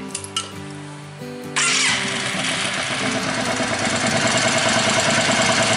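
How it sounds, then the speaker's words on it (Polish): Yamaha Virago XV 535 motorcycle with freshly adjusted carburetors, a few starter cranks and clicks, then the engine catches and settles into an even, close idle. "uruchomię teraz silnik i pokażę Wam,"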